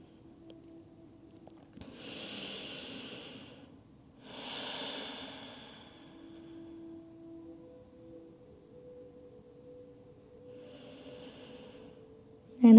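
Slow, deep breathing during a beginner-friendly yoga flow: two long, close breaths in quick succession, then a fainter one after a pause, over a low steady hum with no talking.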